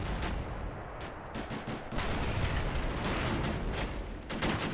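Artillery fire in a Robz Mod tournament video game: a dense, unbroken barrage of booming blasts and crackling shots that overlap continuously, loud and close, with a few sharper volleys standing out.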